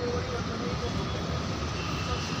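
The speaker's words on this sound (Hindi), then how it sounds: "यहाँ से मेट्रो गुजरती है" Metro train passing at Kharawadi with a steady, loud broadband rumble and roar that fills the whole moment without a break, with no clear talk over it.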